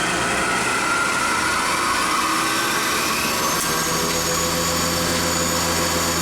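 A tiny solid carbide cutter mills at 4,200 RPM, a loud, steady high-pitched whine and hiss of spindle and cutting that continues unbroken throughout.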